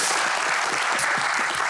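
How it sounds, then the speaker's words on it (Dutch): Audience applause fills the room after a panel discussion on agriculture, a steady dense clapping throughout with no speech over it. "Geef ze een warm applaus."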